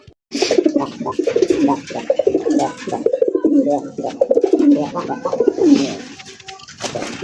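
Raj golla pigeons coo in a close, dense chorus of throaty, rhythmic calls that overlap steadily, with a few brief sharper sounds near the end.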